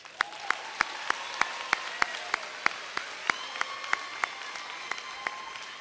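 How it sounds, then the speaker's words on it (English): A few people clap at a 2014 HUSOC recognition ceremony, sparse and evenly spaced sharp claps that keep a steady rhythm against a light room background, with no talk over them. "Give them a round of applause."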